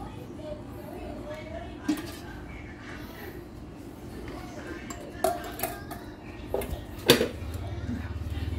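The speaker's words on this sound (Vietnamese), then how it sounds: "Đó là cách mà chúng ta có thể là tháo lưỡi dao ra." A blade is taken off a vegetable blender used for pennywort and pandan leaves, giving a few sharp plastic-and-metal clicks and clinks over a steady background hiss while a person speaks.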